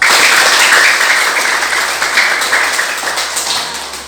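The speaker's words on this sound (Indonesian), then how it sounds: "maka Ibu berikan tepuk tangan" A classroom of students applauding after their presentations: loud, close clapping right from the start that gradually fades over a few seconds.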